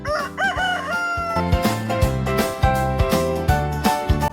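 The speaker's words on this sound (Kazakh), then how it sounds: "Әтеш." A rooster gives one loud, close cock-a-doodle-doo at the start, then music plays for the rest of the clip.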